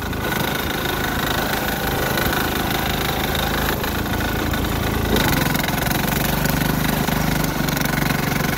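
A 6HP Sears Suburban diesel tractor engine runs continuously while pushing through heavy snow, a close, loud, knocking chug with a dense rattle that holds steady throughout; no talk.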